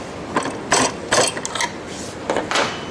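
Ratcheting, clicking metal as a nut is tightened on the threaded handle of a homemade forge blower, five or six short close bursts in an uneven rhythm with no talk.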